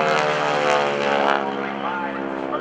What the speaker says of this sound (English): Now watch as the aircraft goes through this dirty roll.